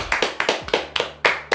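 A single person claps alone, about eight sharp, close hand claps in an uneven rhythm, with no crowd joining in.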